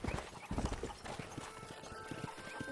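Horse hooves clip-clopping in the Red Dead Redemption video game, a steady run of close, rhythmic hoofbeats over a busy game background, with an occasional whinny.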